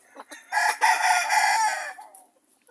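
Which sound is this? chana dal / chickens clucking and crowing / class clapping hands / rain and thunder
chickens clucking and crowing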